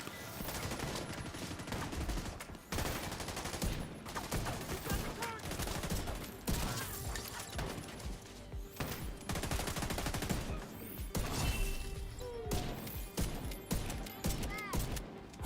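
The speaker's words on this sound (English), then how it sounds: "I threw out those extra shots just because it felt good." Gunshots in The Division video game, rapid bursts and sustained volleys of automatic fire that are loud and close, with brief gaps between the strings of shots.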